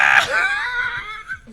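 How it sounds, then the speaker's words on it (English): A person lets out one loud wordless scream that trails off into a wavering, fading cry, alone and close to the microphone. "Oh, I'm not screaming any words."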